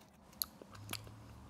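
A single crisp bite into a small crunchy cucamelon, a tiny cucumber resembling a mini watermelon, gives a sharp snap followed by a few faint, close crunches, heard quietly with no talking.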